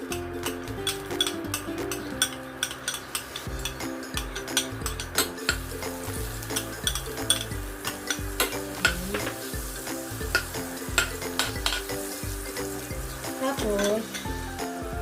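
Butter melts in a pan for gravy on an induction cooker, sizzling and crackling steadily with frequent sharp pops and a few utensil clicks throughout.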